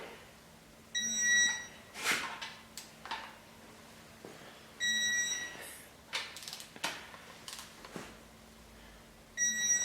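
A digital torque angle wrench used while tightening bolts during an LS1 engine build gives short bursts of electronic beeps at intervals, against quiet shop background with clicks and handling noises.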